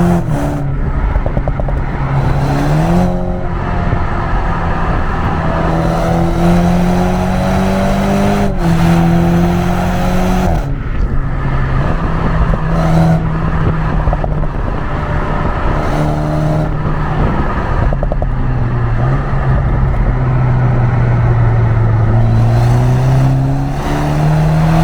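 A BMW Z4 roadster is pushed hard through sharp corners on back roads, its engine loud and close, revving up and down through gear changes with continuous droning pitch sweeps and brief lifts between bends.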